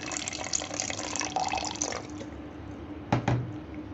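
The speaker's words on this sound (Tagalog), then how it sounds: "magdadagdag tayo ng tubig. Ayan. Mag-add tayo ng water guys." Water streams into a bowl of glutinous rice flour while making palitaw, a soft steady pour with faint splashing and a couple of brief drips near the end.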